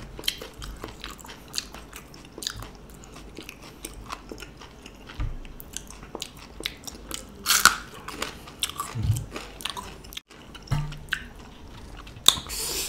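Tough raw beef offal, previously blanched in water, is chewed and bitten close up in wet, squishy crunches, with irregular bites and sharp snaps over a quiet background.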